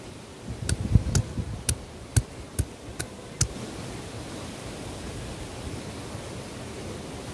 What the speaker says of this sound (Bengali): রসুনগুলো থেঁতো করে নেব।